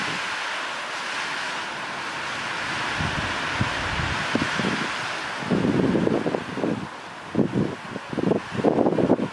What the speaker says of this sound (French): Là on a de bonnes bourrasques je pense, autour des 70 km/h.